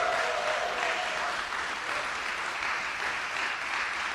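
Steady applause from an audience at a press conference about a lawsuit against New York's congestion pricing, moderately loud continuous clapping with a brief voice at the start.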